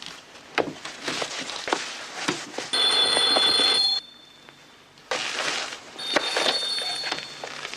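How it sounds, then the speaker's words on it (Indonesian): A landline home telephone rings in two long bursts of trilling electronic bell, loud and near, against a busy background of clatter and noise. "terdengar suara bunyi telepon rumah"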